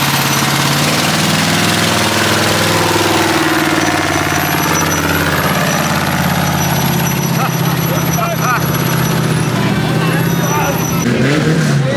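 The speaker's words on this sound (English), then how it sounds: "This truck doesn't sound very good." A truck engine runs loud and rough at the NORRA 1000 rally finish line, a steady low drone with other vehicles close by, as people talk and shout over it throughout.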